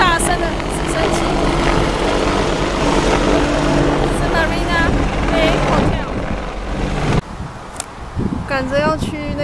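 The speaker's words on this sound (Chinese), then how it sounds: "来这边拍这些很大声的直升机" Loud helicopters flying over Marina Bay in Singapore, a steady heavy rotor roar that fills the scene, with people talking over it throughout and the noise dipping briefly near the end.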